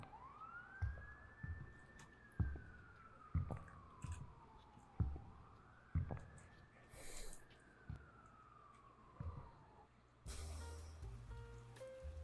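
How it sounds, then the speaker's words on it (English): Police car sirens wail in slow rising-and-falling sweeps, twice over, amid thumps and rustling effects in a Halloween night scene, ending with a harsh burst of noise. "You never felt so relieved to hear the sound of sirens."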